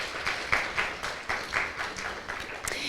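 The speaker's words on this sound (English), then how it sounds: "So a big round of applause for the First Ladies team." An audience applauds for the First Ladies team at a museum event: a steady patter of many hands clapping at moderate volume, heard somewhat distant and sustained for the full stretch with no voices.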